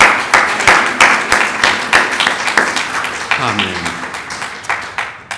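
A church congregation claps together in a dense, steady burst of applause filling the room, with a voice speaking briefly over the clapping.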